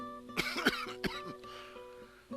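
Someone coughs a few times in quick, harsh bursts close by, followed by a brief throat clearing.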